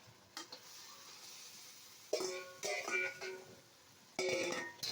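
Menudo stew stirred in a pot, with a few soft scraping and sizzling bursts of a spoon against the pan separated by quiet pauses, close up.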